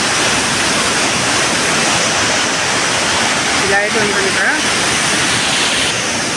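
The waterfall at Chintapalli Kothapalli gives off a steady, loud broadband roar of falling water that fills the whole clip, with a person briefly speaking over it.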